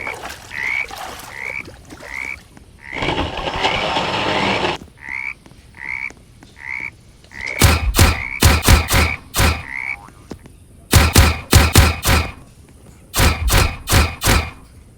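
Frogs croak in the 99 Nights in the Forest video game, heard as a series of short, loud, evenly spaced croaks alongside bursts of sharp, repeated thumping hits.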